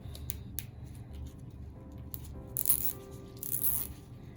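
Two quick ratcheting zips of a zip tie pulled tight while making a holiday wreath, close and crisp, each a short rasping burst over quiet background clicks.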